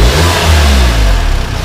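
An Audi S1 quattro's 2-litre TFSI turbo engine revs up loudly and holds a high, throaty pitch before dropping back, with a slightly choppy burble at the end.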